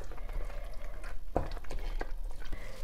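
Amaranth greens being stirred into peanut sauce in a pan, with soft scraping and a faint sizzle plus one sharper clink of utensil against the pan midway.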